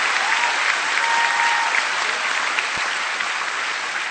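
Large crowd at a political rally in Delaware applauds choirs, a loud continuous roar of clapping and cheering with faint whistles, sustained and even from start to finish.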